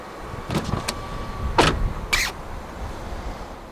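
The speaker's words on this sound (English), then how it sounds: "The windows dip down a little bit as you open the doors." A brief electric motor whir of a 2020 MINI Cooper SE Hatch's frameless windows dipping, then a door clicking open with a couple of sharp clunks, close and clear.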